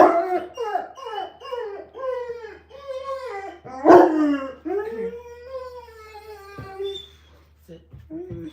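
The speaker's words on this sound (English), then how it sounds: "That dog." A dog howls in long rising and falling wails mixed with sharp barks and yips, close and loud, with a person's voice briefly heard between the calls.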